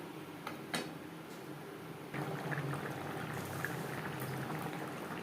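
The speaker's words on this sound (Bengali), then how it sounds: "গ্রেভি ফুটে ওঠা পর্যন্ত অপেক্ষা করব।" Pangas fish curry gravy simmers in a pan, making a continuous low bubbling that grows slightly louder and busier partway through, with a few faint ticks on top.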